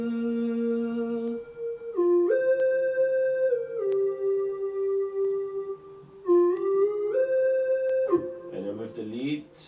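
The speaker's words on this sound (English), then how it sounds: "And then I added a lead, purity lead." A purity lead synth plays a sustained melodic line in a hip-hop instrumental, held tones stepping up and down between notes with a bright, clean harmonic timbre, loud and alone with no voice over it.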